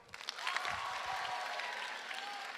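An audience at a live public event applauds, sustained clapping from a crowd heard at moderate distance, steady throughout with no one speaking over it.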